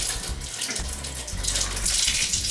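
Water gushing from newly fitted wall-mounted traditional bathroom taps, a close, steady splashing rush into a basin, slightly sputtery from airlocks in the pipes.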